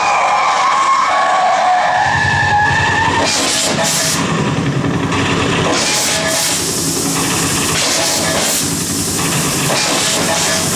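Motion control stunt cars skidding in a 3D tunnel ride at Universal Studios, loud sustained tire squeals and hissing that fill the space continuously, with engine rumble beneath and no talking.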